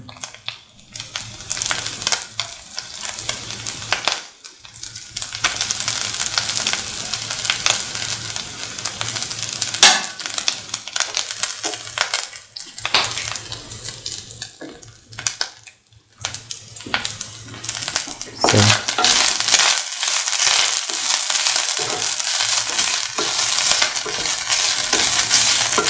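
Vermicelli with raisins and cardamom sautés in a pan for sweet banana vermicelli pasta: a loud, continuous sizzle with scraping stirring strokes, briefly dipping a few times before the frying hiss surges back.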